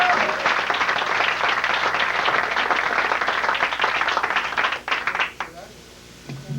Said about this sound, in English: And big round of applause for Alex.